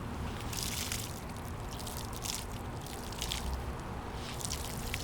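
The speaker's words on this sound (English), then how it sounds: "you have to add some water." Water is added to sugarcane knots set out for germination, giving a steady wet trickling and splashing that runs without a break, close and even in level, with no talk.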